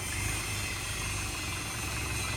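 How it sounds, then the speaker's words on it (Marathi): A tractor engine idles close by, a steady low, throbbing rumble with an even pulse and no voices. "सो गाईज ट्रॅक्टर आला तिथं कामावरून."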